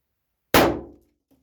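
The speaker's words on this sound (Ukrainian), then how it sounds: "І так, перший постріл." A single sharp, loud bang from a SUR TT 33 / ANSAR 1071 pistol with a quick ringing decay, followed by a faint click about a second later as the slide fails to lock back.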